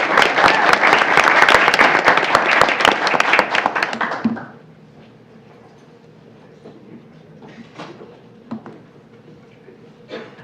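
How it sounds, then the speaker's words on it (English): Loud audience applause at a high school board meeting, a dense burst of many hands clapping that runs about four seconds and then stops abruptly, leaving a quiet room with faint scattered sounds. "so a round of applause for them as well"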